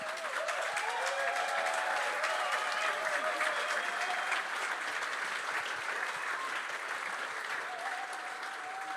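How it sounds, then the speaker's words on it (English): Audience applause at the opening ceremony of the Gordon Bennett gas balloon race, dense sustained clapping from a large crowd for about nine seconds, with faint background voices or tones mixed in. "Ladies and gentlemen, a big round of applause."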